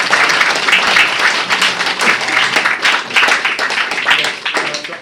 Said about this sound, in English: So I think another round of applause.